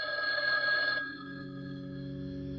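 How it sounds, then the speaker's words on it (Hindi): A telephone rings with a bright electronic trill that cuts off after about a second, leaving a steady sustained tone, clear and alone. "आपका फोन बजता है"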